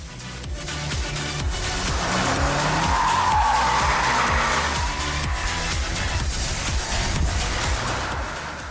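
A blue BMW M5 sedan driven hard on a track by a professional, its tires squealing and skidding continuously over a loud, steady engine roar, close and sustained throughout.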